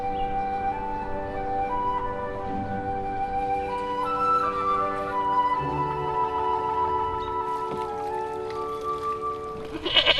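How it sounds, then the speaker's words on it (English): Goats grazing to clear invasive brush on park islands bleat in overlapping calls over a low outdoor background, mid-distance and fairly steady, with no one talking. "Gallup Park has gone to the goats as they work overtime clearing invasive plant species from 2 park islands"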